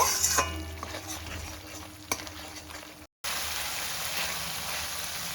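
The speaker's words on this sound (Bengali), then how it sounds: "শুকনো লঙ্কাটা দিয়েও আমি বেশ খানিকক্ষণ এটা ভালো করে মিশিয়ে নেব।" Spices and dried chili stir-fried in oil in a pan for an aloo potol dalna: a steady crackling sizzle with a few sharp scraping taps of stirring, a brief cut in sound midway, then continuous frying.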